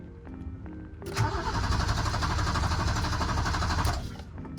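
A BMW E30 cranks over after a fuel pump replacement, the starter churning in a steady rhythmic whirr for about three seconds without catching, then stopping.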